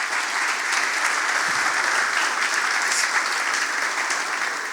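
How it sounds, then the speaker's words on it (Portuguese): Steady, dense applause from a church congregation honoring the Lord Jesus, filling the room evenly for several seconds without letup. "Dá um forte aplauso ao Senhor Jesus."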